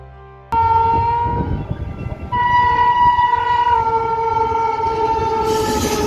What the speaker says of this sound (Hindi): ये है हरिद्वार बांद्रा एक्सप्रेस जो कभी देवबंद जंक्शन पर रुका करती थी